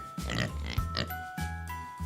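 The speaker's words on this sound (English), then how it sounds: "We have a pink pig" A pink pig on a farm gives a few close grunting oinks in quick bursts, nasal and throaty, with short pauses between them and no speech.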